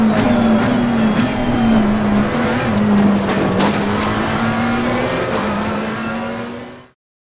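McLaren 720S engine note from the Automobilista 2 racing simulator, a loud steady engine drone held at fairly constant revs with slight pitch wobbles, continuing alone for about seven seconds before cutting off abruptly.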